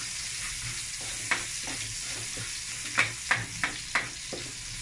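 Garlic frying in pork fat for Batangas-style radish kilawen, a steady close sizzle with several sharp spatula clicks and scrapes against the pan, with no voices.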